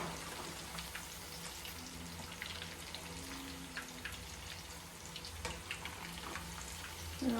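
Chicken kabab pieces frying in oil in a pan, giving a steady close sizzle with scattered pops and crackles throughout, no talking.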